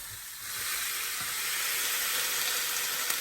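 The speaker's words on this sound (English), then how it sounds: "You probably hear the skirt in the background." Skirt steak sizzles in a hot pan, a loud, steady hiss that swells within the first half second and holds, with no talk over it.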